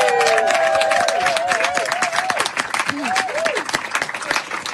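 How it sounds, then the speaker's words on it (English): A live-session audience gives a big round of applause for the show's crew and volunteers; loud, dense clapping with cheering and overlapping voices, gradually thinning toward the end. "Give them a big round of applause."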